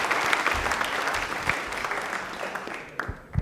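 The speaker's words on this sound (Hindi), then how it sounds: "अरे तालियां जोरदार हो जाए भाई" A studio audience applauds on a televised quiz show, a lively burst of clapping that gradually thins out over a few seconds, ending with a few scattered claps.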